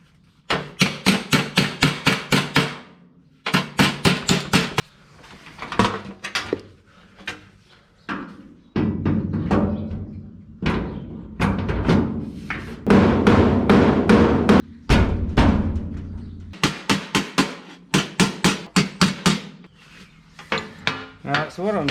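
A hammer taps back the tipped edge of a rusty car's steel skirt panel in quick bursts of sharp metallic knocks, with a stretch of denser, heavier hammering in the middle.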